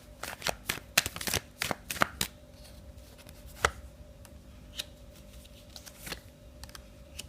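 A deck of tarot cards is shuffled up close, with rapid riffling bursts early on, then softer scattered card taps and flicks against a faint steady hum, no voices.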